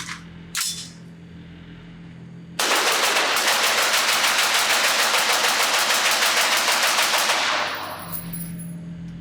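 A suppressed LMT MRP-L piston-driven AR-15 rifle dumping a magazine in rapid fire at a range: a few seconds of loud, evenly spaced shots in a steady rattling stream that stops abruptly, with quiet handling noise before and after.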